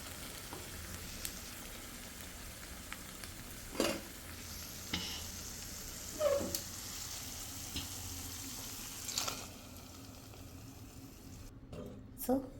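A tempering of fried onions and curry leaves sizzles steadily in hot oil for fenugreek-leaf dal, with occasional stirring clatters and spoon knocks, a voice talking faintly in the background.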